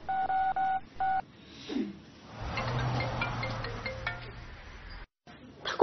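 Telephone keypad tones as someone dials a call: a quick run of clean electronic beeps at the start, followed by soft rustling and a low hum with no voices.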